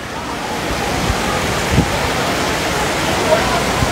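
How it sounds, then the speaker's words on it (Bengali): Heavy rain pours down outdoors in Malaysia as a dense, constant hiss of falling water, loud and close throughout. "দেখেন কত বৃষ্টি"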